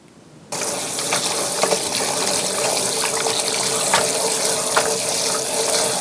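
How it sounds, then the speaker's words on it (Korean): Steady gush of running tap water over salted napa cabbage being rinsed in a sink for mild water kimchi, starting abruptly after a brief quiet moment and continuing loud and close with small splashes and clinks. "물을 빼서 그리고 2번 헹궈 주겠습니다."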